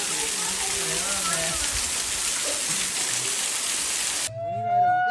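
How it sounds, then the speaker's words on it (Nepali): Light rain falling at Malika Peace Park in Gulmi, heard as a steady dense hiss of drops that cuts off near the end, with voices talking under it and over it. "पानी आएर बिजो भइसक्यो अलिअलि परिरहेको अवस्था छ"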